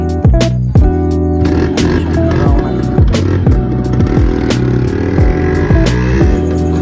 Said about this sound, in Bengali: আজকে যাচ্ছি আমার RX 100 বাইক নিয়ে আমরা দুই বন্ধু মিলে একটু ঘুরতে।